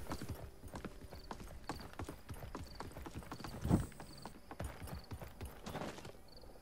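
Rapid rhythmic hoofbeats of a galloping horse in the game Realm Royale, steady and close, with a brief heavier thud partway through.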